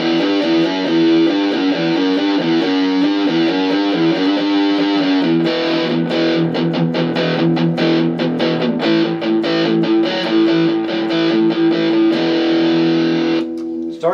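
Distorted electric guitar through a Marshall MG15CFX amp with effects pedals, loud and sustained, with steady chords giving way to quick choppy strummed hits later on.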